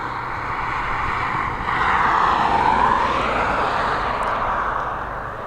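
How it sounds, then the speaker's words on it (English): Ryanair Boeing 737 taxiing at Dublin Airport, a continuous jet engine whine and rumble that swells slightly louder midway and then holds steady, fairly close, with no speech. "We've got a Boeing 737 taxiing its way towards us."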